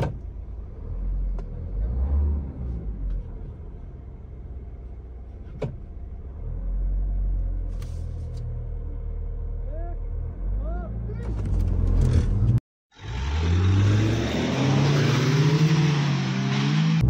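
Tata Harrier and Hyundai Venue cars in a drag race, a steady engine rumble with rising revs and passing vehicle noise, voices talking over it, then a brief cut and a louder, closer roar of accelerating engines.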